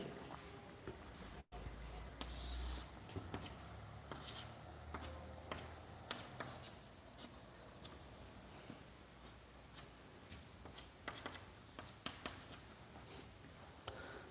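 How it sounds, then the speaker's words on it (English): Pen or marker drawing a number line on a board or paper: faint, scratchy strokes and taps in an irregular rhythm, with a quiet background and a brief louder knock early on. "Just I am going to draw the number line here."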